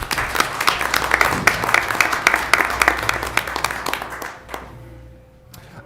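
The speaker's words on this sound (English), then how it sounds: "A huge round of applause for the Bates women's field hockey team" Dense applause from an audience at a city council meeting honoring a women's field hockey team, many hands clapping steadily and loudly before thinning out to a few scattered claps.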